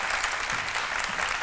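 Continuous applause from a TV studio audience, many hands clapping in an even, full patter.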